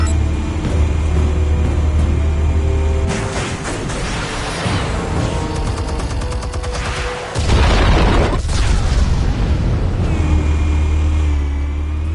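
Explosives go off in the Batman Telltale video game, a loud rumbling boom that swells from a low drone into a heavy blast and roaring aftermath over game music.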